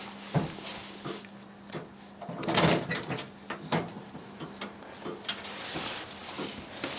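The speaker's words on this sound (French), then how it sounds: "On peut ouvrir la première porte." A door on a Bodet BR clock case opens with a brief creak and clunk amid soft knocks and handling noises, while the clock keeps up a faint regular ticking in a quiet room.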